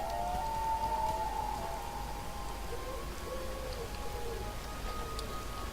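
Steady rain falls with a soft, even hiss, faint and continuous throughout, with a brief tonal whine early on and no voices.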